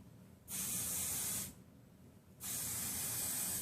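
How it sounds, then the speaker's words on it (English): Two long hissing sprays of aerosol hair texturizing spray, about a second each, separated by a short pause, close and steady. "So I'm just gonna lift up these pieces and spray inside."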